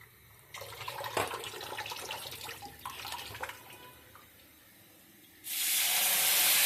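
Water poured into a pan of frying ground cumin, coriander and chili powder sets off a loud steady hiss and spray that starts suddenly near the end and follows a stretch of sizzling and clinking, close by and without talk.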